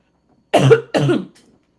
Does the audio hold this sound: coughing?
yes